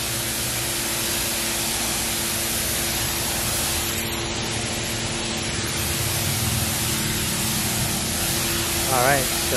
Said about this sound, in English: Very effective cleaning these floors.